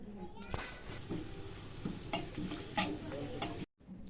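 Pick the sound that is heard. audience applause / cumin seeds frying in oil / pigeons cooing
cumin seeds frying in oil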